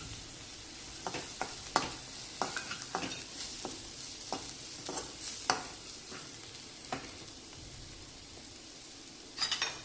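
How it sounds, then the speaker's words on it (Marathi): Crushed raw peanut powder is roasted in oil in a pan, quiet sizzling broken by irregular scraping stirs of a spatula, close and faint without any speech. "आता हा शेंगदाण्याचा कूट, हा कच्च्या शेंगदाण्याचा कूट आहे, हा आपण तेलामध्ये भाजून घेऊया"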